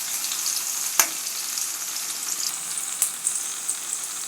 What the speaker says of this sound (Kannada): ಈರುಳ್ಳಿ ಚೆನ್ನಾಗಿ ಸ್ವಲ್ಪ ಫ್ರೈ ಆಗಲಿ.